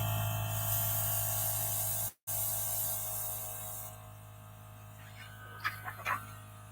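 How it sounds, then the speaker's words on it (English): A steady airy hiss of an airbrush spraying onto macarons from about 8 inches away, over a constant low compressor hum, with a brief dropout and a few soft clicks toward the end. "Pressing on my compressor, and then I'm going to hold it about 8 inches away and spray"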